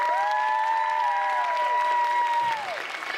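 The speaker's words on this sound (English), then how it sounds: "If you agree, applaud really loud so I'll know." An audience at a comedy magic show applauds faintly, a soft steady patter beneath sustained, gliding musical tones that fade out near the end.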